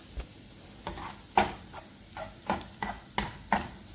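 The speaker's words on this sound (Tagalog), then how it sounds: "Medyo luto natin yung bawang para hindi maglasa ng bawang." Garlic frying in a pan, with a quiet sizzle under a series of sharp scrapes and taps as a utensil stirs it, about eight distinct strokes at irregular intervals, close and without talk.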